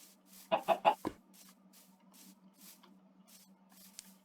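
Chicken in a Minecraft game gives three or four quick clucks in a row, fairly close and clear, followed by quiet game background with a steady low hum.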